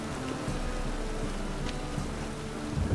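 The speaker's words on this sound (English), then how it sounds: "Rain again." Steady rain falls in a medieval town in The Witcher 3, a constant even patter at moderate level with no talk over it.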